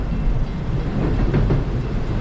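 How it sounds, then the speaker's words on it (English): A train passes on former Boston and Maine tracks, now CSX, near a tunnel: steady loud rumble and rolling rail noise close by, with no talk. "it's train action nonetheless"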